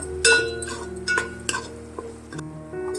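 Ginger garlic paste being sautéed in a pan for paneer biryani, heard as soft scattered scraping and stirring strokes with a faint sizzle in the background, fairly quiet and without talk.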